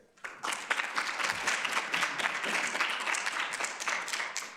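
Audience applause welcoming Irene Pritzker at a behavioral science of philanthropy colloquium, a steady wash of many hands clapping that swells quickly and holds at an even level throughout, with no talk over it.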